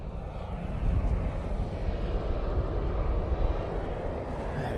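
A Ryanair jet airliner passes close by at Manchester Airport, its broad engine roar steady and loud throughout with slight swells, heard alone without voices.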